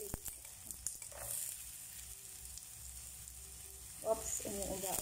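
Onion and garlic sautéing in a hot pan for mechado, a steady soft sizzle with a few clinks and stirring scrapes, brighter crackle rising near the end.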